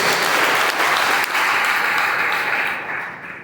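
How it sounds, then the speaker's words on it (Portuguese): A church congregation applauds during a sermon on Psalm 92, a loud, dense burst of clapping that holds strong for nearly three seconds before tapering off. "Vamos aplaudir, irmãos, a palavra do nosso Deus."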